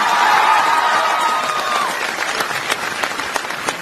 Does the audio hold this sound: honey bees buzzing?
no